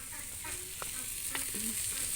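Food sizzles steadily in a hot pan, a continuous crackling hiss with faint clinks of stirring.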